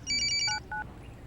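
A telephone ringing in a movie scene, a short electronic warble of rapid repeated tones followed by a brief second burst, close and clear.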